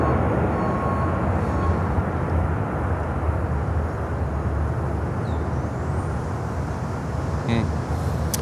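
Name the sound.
C-40 aircraft at Miami airport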